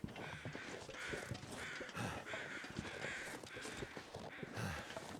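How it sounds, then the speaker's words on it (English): Crows caw loudly and continuously in the survival video game The Long Dark, with repeated harsh calls layered over steady outdoor ambience and no talking. "the crows are so loud"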